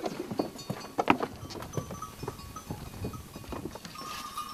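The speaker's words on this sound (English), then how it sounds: "On the hill above Saskies, shepherds graze their sheep and goats" Sheep and goats grazing on a hillside pasture, with scattered bleats, soft clinking bells and shuffling hooves at moderate distance in an open outdoor setting.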